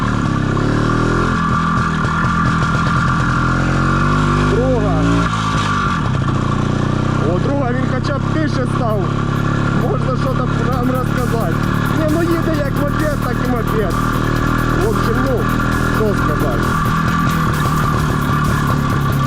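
An IZH Planeta 5 motorcycle engine runs steadily while riding, a loud continuous mid-pitched drone with rising and falling revs as it pulls away, heard up close with a rider talking over it.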